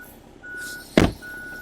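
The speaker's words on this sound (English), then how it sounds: "apologize for the beeping noise as they're picking up some construction equipment." Construction equipment being loaded sends out steady reversing beeps at moderate distance, two evenly spaced tones broken by a sharp thump in between, over a low outdoor hum.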